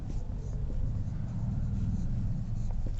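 Continuous scratchy marker-like writing on a board during a chemistry class on the solid state, steady and close, with a low background hum and no talking.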